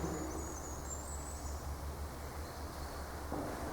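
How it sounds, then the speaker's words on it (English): Soft bird calls drift over a steady low outdoor hum, faint and distant, with a few high whistled notes rising above the quiet background. "All you can hear is the birds."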